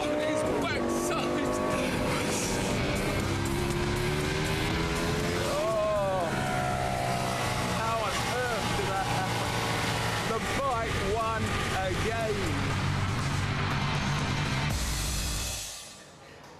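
A Ducati V-twin motorcycle engine races on a track, loud and continuous, its pitch rising and falling through gear changes, with a presenter talking over the roar before it cuts away at the end.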